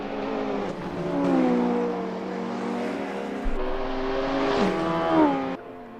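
Turbocharged touring race car engine in a racing video game on the Nordschleife: a close, steady, harmonic engine note whose pitch rises and falls through gear changes and corners.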